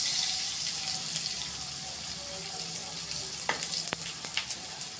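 Garlic fries in a pan with a steady, fairly quiet hiss and sizzle, and a few sharp ticks and clinks come near the end.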